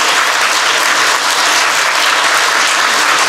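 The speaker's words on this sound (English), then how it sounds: "Round of applause, I think." Dense, steady applause from a conference audience at a developer talk at NIDC 2023, loud and continuous throughout with no gaps and no voices on top.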